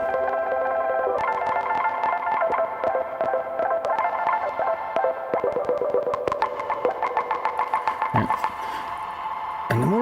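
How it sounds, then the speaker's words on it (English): Synthesizer played through delay and reverb effects in a hardware jam setup, dense repeating tones with echoing note trails and busy rhythmic plucks stacking up throughout, loud and continuous with no talking. "I have some reverb on these delays as well"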